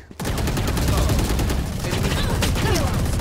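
Dense, continuous gunfire from Valorant firefights, loud and close, breaking in abruptly after a brief quiet moment and continuing steadily, with game sounds layered over it.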